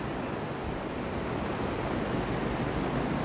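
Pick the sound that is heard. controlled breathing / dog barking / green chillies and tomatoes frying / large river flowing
large river flowing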